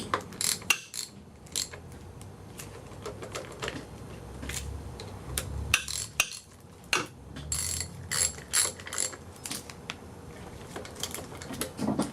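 A hand ratchet clicks in quick bursts tightening four bolts during a timing belt change on a 1.8T AEB/ATW engine, with short pauses between runs of close, crisp pawl clicks.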